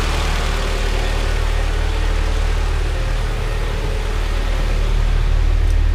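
A DA-chassis Honda Integra with a swapped F20 engine runs on a dyno, giving a steady, loud, low droning engine note with constant roar and no clear revving changes.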